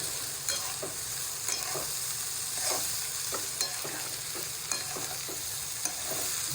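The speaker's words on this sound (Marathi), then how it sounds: "भाजी फोडण्यात टाकलेली आहे" Vegetables sizzle in hot oil with tempering spices, a steady fry hiss broken by repeated scraping stirs of a spatula against the pan, with no talking.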